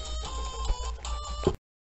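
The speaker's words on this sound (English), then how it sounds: "Sorry about that had a phone call." A telephone ringtone sounds nearby, a steady electronic tone with a slight pulse, lasting about a second and a half before it cuts off abruptly into silence.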